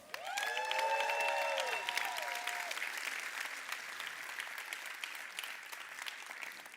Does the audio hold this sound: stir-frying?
no